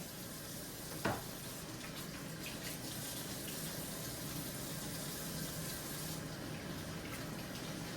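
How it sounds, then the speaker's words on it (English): Bacon fries in a pan with a steady, quiet hiss and crackle of fat that runs throughout, with one sharp clack near the start. "Let me let the bacon cook some."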